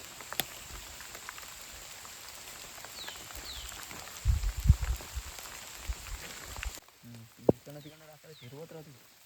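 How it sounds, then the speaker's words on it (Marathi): Light night drizzle at a campsite, a steady fine patter of raindrops with a few sizzling bursts, continuing until it cuts off and someone speaks briefly near the end. "पाऊस रिमझिम चालू आहे"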